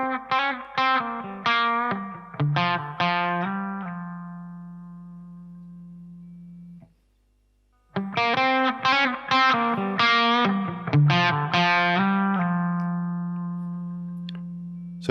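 Electric guitar through a TC Electronic Cinders overdrive pedal plays chords and single notes, a short pause midway, then more strummed phrases with a warm, slightly gritty tone.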